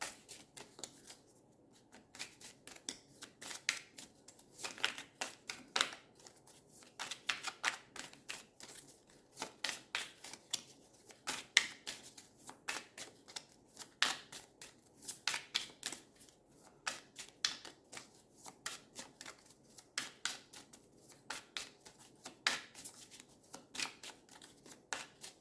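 Tarot cards are shuffled by hand in quick repeated riffles and slides, a crisp papery rustling in bursts with short pauses, close and fairly quiet, with no talking.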